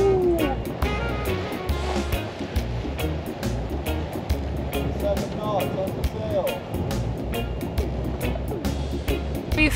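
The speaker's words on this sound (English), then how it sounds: "We're officially sailing. Both sails are up. Mainsail and jib are up." A sailboat runs under mainsail and jib with its engine off, making about six knots off the Bahamas. Steady rushing water and wave wash fill the passage, with wind noise and a voice talking over it throughout.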